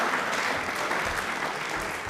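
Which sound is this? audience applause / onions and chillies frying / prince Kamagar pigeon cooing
audience applause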